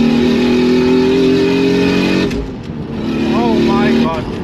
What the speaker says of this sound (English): Oh, that sounds like the turbo's there.